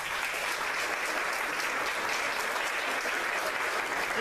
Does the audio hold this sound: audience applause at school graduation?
yes